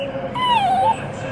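A dog lets out one high, wavering whimpering cry lasting about half a second, close and fairly loud inside a car on a long road trip, with road rumble underneath.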